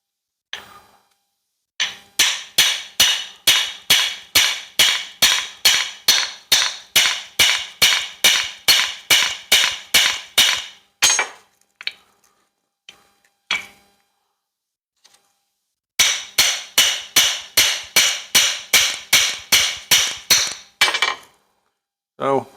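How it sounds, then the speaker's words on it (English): Hammer blows drive a socket to punch out a universal joint cup, close, sharp metallic strikes in two long, evenly paced runs separated by a few scattered taps and a short pause. "I may have to use a socket to punch it from the other side."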